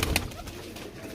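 A teddy pigeon coos once, near and fairly soft, in a brief call with a faint background hum.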